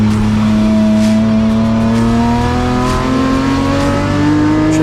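BMW 325i race car, leader of Class E at Zwartkops, crosses the finish line with a loud, steady engine note rising in pitch as it accelerates, close and continuous, with no talk.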